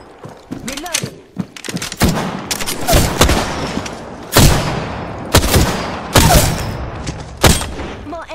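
Apex Legends gunfire cracks out in loud, close bursts, with heavy shots and rapid volleys landing in irregular clusters while speech is mixed in among the firing.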